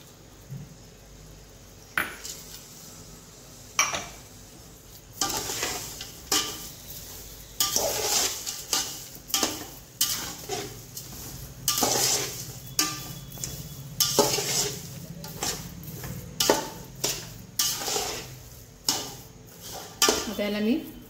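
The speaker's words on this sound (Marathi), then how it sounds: "तर ही साखर आता व्यवस्थित मिक्स करून घ्यायची आहे." A spoon stirs sugar with cashews and almonds in a metal pan for Satyanarayan prasad, clattering and scraping in repeated bursts of clinks and knocks close up, with a faint sizzle beneath.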